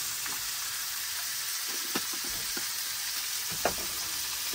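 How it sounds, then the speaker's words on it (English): Shrimp with garlic and seasoning sizzle steadily in a frying pan at a truck campsite, a constant bright hiss with a few soft scrapes of a plastic spoon stirring, close and alone. "And stir it around real good. Let that garlic get some seasoning going on them shrimp."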